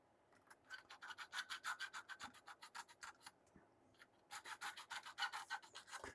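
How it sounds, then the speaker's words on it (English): A metal file lightly deburring a 3D-printed plastic part, heard as a steady run of quick rasping strokes, a pause, then another burst of rhythmic scraping, close and alone. "hit it with a file lightly to like deburr"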